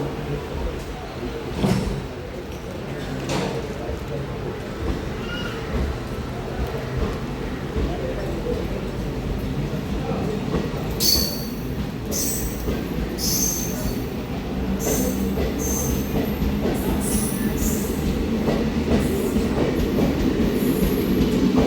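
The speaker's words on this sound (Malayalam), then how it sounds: "Guruvayur Ernakulam passenger departing from Chalakudy railway station." The Guruvayur–Ernakulam passenger train pulls out of Chalakudi railway station with a steady close rumble and wheel clatter. High wheel squeals rise in its second half, and a voice is briefly heard.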